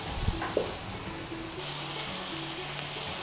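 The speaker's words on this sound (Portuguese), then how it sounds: "agora então vamos selar a carne. Esse barulho característico, né?" Meat searing in a hot pan on a Brazilian TV cooking show, giving a steady close sizzle and hiss throughout, with a couple of light clinks near the start and a low background hum.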